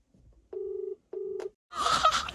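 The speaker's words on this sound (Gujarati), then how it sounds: "ગઈ તો ખરા રિંગ" A telephone ring tone sounds twice during a prank call, two even buzzing pulses separated by a short gap, followed by a burst of noisy sound as the line connects.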